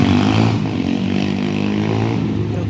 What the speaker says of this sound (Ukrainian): Оце як вечір починаються оті мопеди, але це він один.